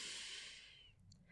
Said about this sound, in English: Everybody, just take a deep breath with me.